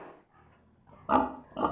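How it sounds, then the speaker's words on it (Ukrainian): A pig gives two close, low grunts after a quieter stretch, with no talk over them. "Ця свинка парована Петрену."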